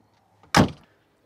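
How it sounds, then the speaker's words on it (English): A car door lock is pushed down by hand from the back door, a single short muffled thunk, moderately loud and close, in an otherwise quiet setting. "To lock the car, you have to reach in through the back door"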